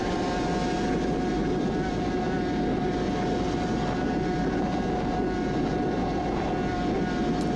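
A Suzuki RG500 racing motorcycle runs at full throttle on the Isle of Man course, heard onboard as a loud, steady, unbroken engine roar with constant wind rush and no shifts or pauses.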